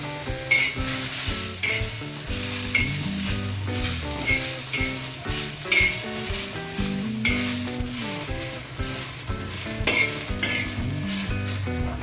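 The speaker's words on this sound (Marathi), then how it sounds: "कांदा थोडा भाजला आहे आता आपण ह्याच्यामध्ये लसूण आणि आलं पण भाजून घेऊया" Onion, garlic and ginger frying in a pan: a constant bright sizzle with repeated spatula stirring and light clinks, under background music, with no one talking.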